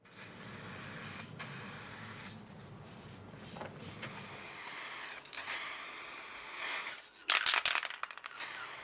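Clear lacquer sprayed onto a taped guitar neck for a Telecaster-style build, bursts of close hissing spray separated by short pauses, with a few clatters near the end.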